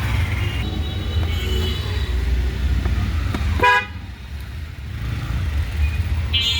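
Road traffic in a jam idles with engine rumble while car horns toot repeatedly, including one sharp loud honk midway and other shorter beeps nearby and farther off.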